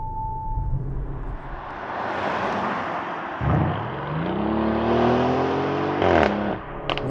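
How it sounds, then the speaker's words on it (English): A Lamborghini Urus SE, a twin-turbo V8 hybrid SUV, revs loudly with rising engine drone and a sharp crackling backfire burst near the end, all close and without talk. "we can hear the twin turbo V8 with the hybrid system. Nice big backfires."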